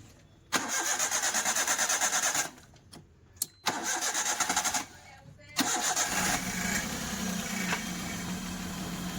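A Maruti Alto 800 engine, just refitted with its cylinder head, cranks in two long bursts with a short pause between them, then catches on the third try and settles into a steady close idle.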